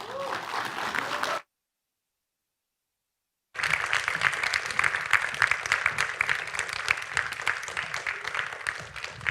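An audience applauds to welcome two speakers to the stage at a conversation event, dense sustained clapping from a crowd, broken by a stretch of dead silence before the applause resumes and continues strongly.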